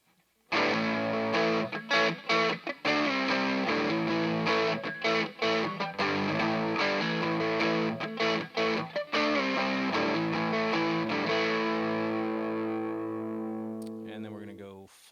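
An electric guitar on its neck pickup plays through an SD1 Flex Pro overdrive pedal, giving a loud, distorted, sustained tone of strummed chords and notes that rings out and fades at the end.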